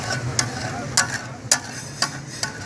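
Tawa chicken with cream sizzles on a hot pan while a spatula scrapes and taps it about every half second. The strokes are sharp and close over a low bubbling fry.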